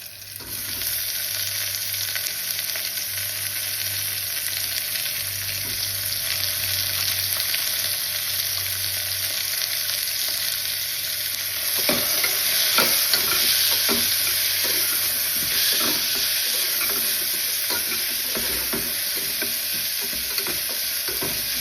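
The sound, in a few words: tomatoes added to curry leaves frying in pan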